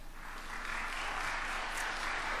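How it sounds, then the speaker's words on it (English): A lecture audience applauds at a talk on Dr. King, youth and social action, a faint, steady wash of many hands clapping at a distance in a large hall. "you're applauding too much."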